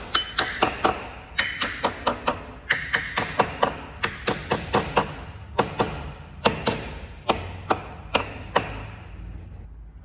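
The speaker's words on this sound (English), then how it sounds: "Putting these chrome caps back on." Chrome wheel caps being tapped back onto a 2019+ Mercedes Sprinter van wheel after a brake pad job: a steady run of sharp, close knocks and taps, some in quick pairs, with no talking.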